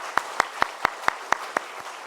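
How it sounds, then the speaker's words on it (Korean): A church congregation claps to welcome a new member at a Sunday service, eight sharp, evenly spaced claps ringing out clearly and then fading. "우리 크게 박수로 축복하겠습니다."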